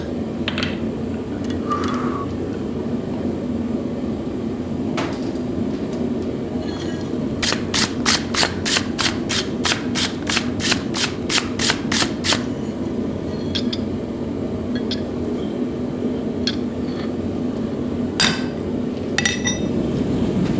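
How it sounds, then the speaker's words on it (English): Steel punch struck with a hammer to stamp a maker's mark into a hot forged cross peen hammer head, a quick run of about a dozen sharp metallic clinks in the middle, with scattered single strikes and low forge roar around them. "I heat it up again so I can punch in my maker's mark"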